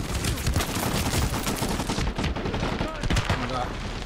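Dense gunfire in the video game Medal of Honor Warfighter, sustained loud automatic bursts and overlapping shots filling the whole stretch with barely a pause, with a voice talking underneath.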